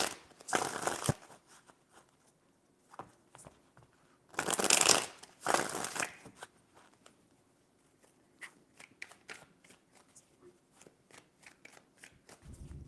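A deck of tarot cards is shuffled in several quick riffling bursts, close and crisp, with softer handling taps and slides of the cards in between.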